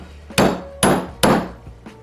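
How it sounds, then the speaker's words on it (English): A sledgehammer drives a bearing in through a socket: three loud, evenly spaced metallic blows ring out close by, followed by a fainter light tap, with no voices. "so I'm going to hammer it that way"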